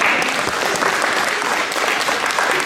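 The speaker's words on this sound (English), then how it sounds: "If y'all will give Drew a round of applause." At a board of education meeting, a roomful of people give Drew a round of applause: thick, continuous clapping from many hands, loud and even throughout.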